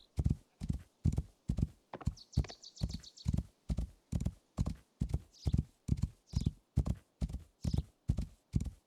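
Galloping horse hooves in the video game Rising World, a fast, even rhythm of loud close thuds throughout, with a few faint bird chirps behind.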